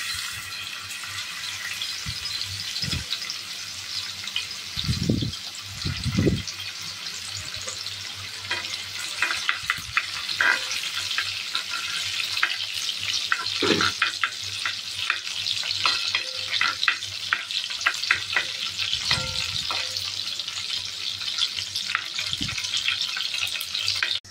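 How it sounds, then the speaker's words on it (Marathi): Garlic cloves, ten to fifteen of them, crackle and sizzle in hot oil for a fish fry, a steady bright hiss that runs throughout with a few louder spatters and stirring knocks. "आपलं तेल आता तापलेलं आहे, त्याच्यामध्ये आता आपण 10 ते 15 पाकळ्या लसणाच्या घालूया"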